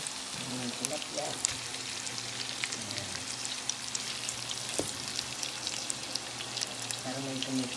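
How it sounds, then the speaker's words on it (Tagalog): Tilapia and milkfish frying in oil give a steady, faint crackling sizzle with scattered pops, and brief low clatters of cookware sound near the start and end. "Lagyan na natin yung mga ipiprito natin sa isda."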